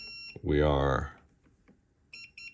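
A multimeter's continuity beep sounds at the speaker tab: a strong tonal buzz near the start, then after a pause a few short repeated beeps near the end, close and clear, with speech also present.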